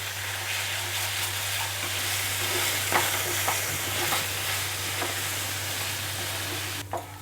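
Melon seed and poppy seed paste sautéed in a pan for a white Bengali yogurt fish curry, with a continuous close sizzle, a steady low hum and a few soft scrapes of stirring.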